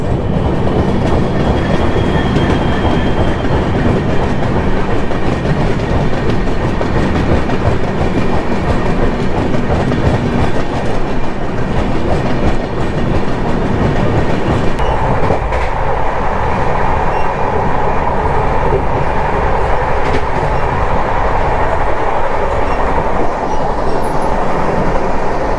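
Steady, loud rumble of the Telangana Express running, with wheels clattering over the track in a constant rhythm and a shift in tone partway through, heard close by from the doorway of a coach.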